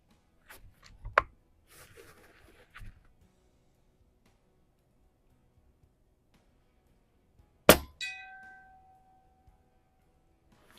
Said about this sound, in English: let's hit the gong